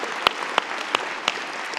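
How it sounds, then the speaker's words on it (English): A conference audience gives a round of applause for the Go programming language team, a thin, moderately distant patter of hands with a few sharper, isolated claps standing out. "I'd like to just have everyone just give a round of applause to the Go team"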